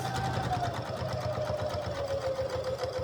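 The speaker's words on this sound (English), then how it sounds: "So carry on stitching it. You stitch it up to where the collar is." A sewing machine stitching a shirt collar runs steadily and close up, its rapid needle chatter and motor whine holding an even pace with no talking.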